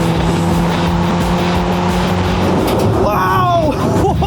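Skoda Yeti engine roaring at high revs on a race track, a loud steady drone from inside the car with rising whine near the end as it accelerates, while a person talks over it.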